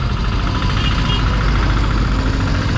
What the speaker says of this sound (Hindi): But ट्रैफिक हमारा साथ छोड़ती नहीं है।